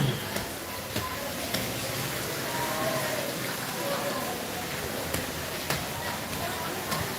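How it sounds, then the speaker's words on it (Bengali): Heavy rain falls steadily in Belgachhi, Chuadanga, a dense even hiss with scattered sharper drop taps, close and continuous throughout with no talk. "প্রচুর পরিমাণ বৃষ্টি হচ্ছে এই যে"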